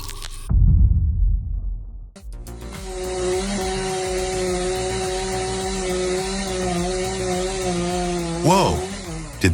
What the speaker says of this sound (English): sharp whine of the saw, the crack as wood splits, and a cloud of sawdust